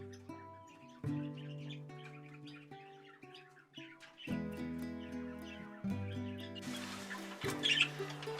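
European goldfinches, including a female about two to two and a half years old, twitter and chirp in a series of bright, quick phrases over a steady droning tonal background, fairly close and growing busier toward the end.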